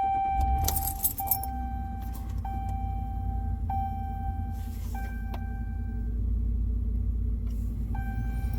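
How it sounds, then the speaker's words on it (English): A car engine is cranked with the key and catches, followed by a steady low idle rumble with keys jangling nearby and repeated dashboard warning chimes; no voices. "Let's start the vehicle."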